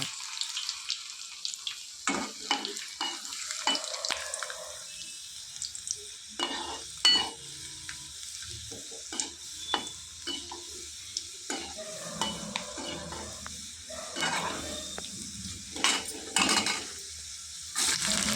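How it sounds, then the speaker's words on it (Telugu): Onions and green chillies frying in oil on a low flame after garlic, a soft steady sizzle under intermittent stirring and scraping clatter in the pan, with occasional running water nearby. "ఉల్లిపాయలు, పచ్చిమిర్చి వేసుకొని లైట్ ఫ్లేమ్లో దూరగా వేయించుకోవాలి"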